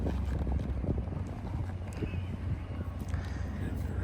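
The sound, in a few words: rescue horse hooves clip-clopping during ride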